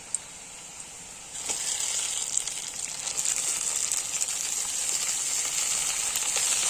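Marinated chicken coated in spice paste drops into a pan of browned onions, and a steady loud sizzle of frying takes over with faint stirring clatter.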